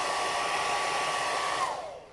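A hair dryer blows steadily on contact paper being applied to a washer and dryer, a loud even whoosh with a high whine that drops and fades as it switches off.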